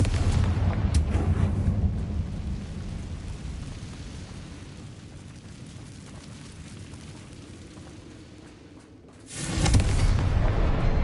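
A Confringo fire spell bursts in the Hogwarts Legacy video game on PS5: a loud, deep explosive blast that fades into a long rumbling tail before a second heavy burst erupts near the end.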